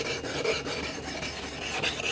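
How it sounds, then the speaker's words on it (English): The iron from an Ohio Tool Co No 95 plow plane is rubbed flat on a 3000 grit whetstone, giving a close, steady rasping scrape with repeated back-and-forth strokes and no voices. "I'm probably just gonna put it on the 3000 grit whetstone and then hone it"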